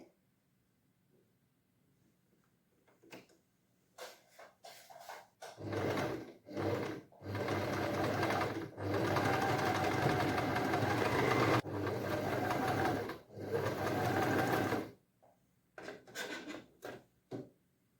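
Close, loud bursts of a sewing machine stitching a silk pattu pavada skirt and blouse, running in several long stretches with brief pauses, bracketed by quieter clicks and handling of fabric.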